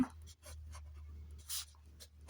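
Pen writing an answer to a class 3 addition problem on paper, a series of soft scratchy strokes in short bursts, close and quiet over a low steady hum, with no talking.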